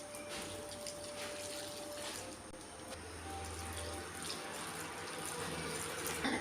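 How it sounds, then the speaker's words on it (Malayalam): Water pours into a cooking pot for jackfruit curry, a steady faint trickle and splash heard alone against a continuous low background hum. "ചക്ക വേകാൻ ആവശ്യമായിട്ടുള്ള വെള്ളം ഒഴിച്ചു കൊടുക്കാം."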